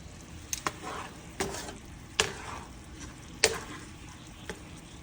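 Spinach in olive oil with Greek seasoning sizzles softly in a pan, broken by several sharp utensil clacks and scrapes as the greens are stirred and lifted out.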